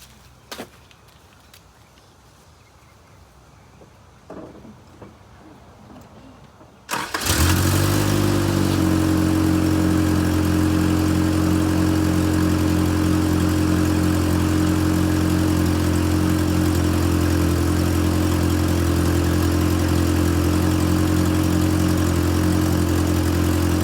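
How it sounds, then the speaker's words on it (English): After a quiet stretch with a few faint clicks, a 1983 Toyota Hilux 4x4 pickup, running on a makeshift fuel line, cranks and catches, then settles into a loud, steady, close idle with a low throbbing rumble. "let's see if the old 83 Toyota pickup will run, and hopefully it can move"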